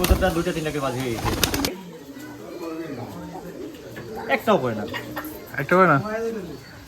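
Giribaj pigeons coo at a pigeon farm, soft repeated warbling calls rising and falling, with a burst of clattering noise at the start and people talking throughout.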